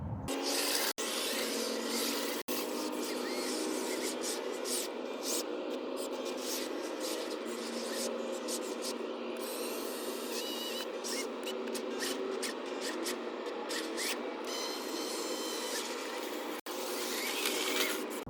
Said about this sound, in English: the teeth don't go in at all, and it kind of gives a metal on rock sound